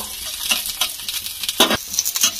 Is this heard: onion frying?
yes